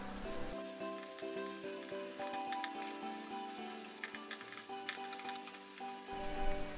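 Chopped onions hit hot oil in a pan for a Bengali taki fish bharta, a steady soft sizzle with occasional clinks of a spoon against cookware and a faint tonal hum underneath.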